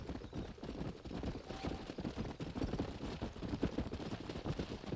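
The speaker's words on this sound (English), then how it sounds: "There's the horses!" Horses in the Western video game Red Dead Redemption trot with a steady, faint clip-clop of hooves, a soft rhythmic patter with no talking over it.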